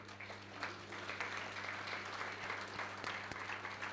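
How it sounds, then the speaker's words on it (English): Steady applause in a hall at a curtain raiser event for the Bharat Tex 2024 textile trade fair, a moderate, continuous patter of clapping heard alone over a faint low electrical hum. "let's give a big round of applause once again to celebrate"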